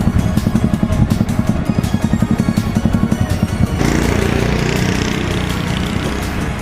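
Vehicles roll off a passenger ferry arriving from Marinduque, with a loud, steady engine clatter and rumble close by and a brief swell of noise partway through.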